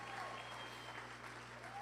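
Church conference audience clapping for the volunteers who decorated the entrance, a steady, dense wash of applause with a low hum underneath, sustained throughout without a break.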